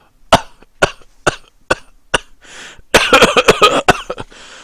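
An audiobook reader voices a character's coughing fit: several sharp, evenly spaced coughs, then a rapid burst of harsher hacking, close and alone without speech.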